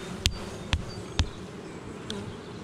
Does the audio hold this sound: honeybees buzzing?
yes